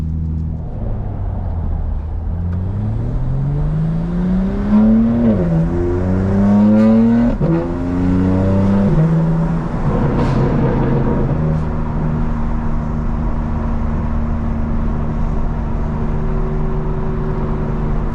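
A 2024 BMW M4 Competition xDrive driven at night with a new splitter, its engine rising and falling through repeated revving climbs and gear changes, then settling into a steady cruising drone, heard from inside the cabin.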